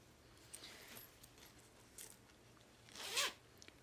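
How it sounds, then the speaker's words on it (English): Zipper on a handmade sewn makeup bag being opened, a few soft zips building to one louder, rasping pull close by, with no one talking. "Zipper opens up nicely."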